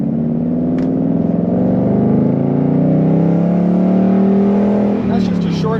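A manual 2021-22 Ford Mustang GT convertible with the 5.0-liter V8 accelerating hard, its loud steady engine drone rising in pitch, then a brief dip as it is short-shifted at 5,000 RPM.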